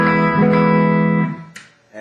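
An electric guitar plays clean and unprocessed, with no pedal in the chain. A loud, sustained note rings with rich harmonics for over a second, then fades. A brief bright pluck and a softer attack follow.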